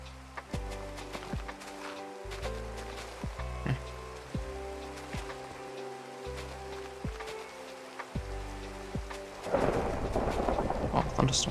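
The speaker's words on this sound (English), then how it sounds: "Thunderstorm, that's cool." A Minecraft thunderstorm rumbles with repeated low thunder rolls and steady rain patter, ending in a louder burst of rain, heard quietly in the background of gameplay.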